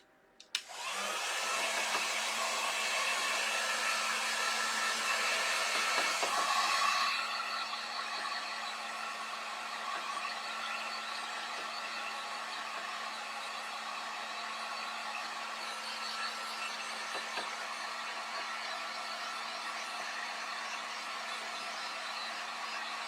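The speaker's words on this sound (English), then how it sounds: "use my heat gun on my letters" A heat gun blows hot air over craft letters for Christmas decor, a steady loud roaring whoosh that starts abruptly, runs strong for several seconds, then continues slightly softer without pause.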